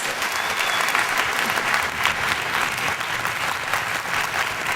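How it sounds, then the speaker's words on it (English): Loud, sustained applause from a large crowd, dense clapping filling the whole stretch without pause. "Let's give him a big round of applause."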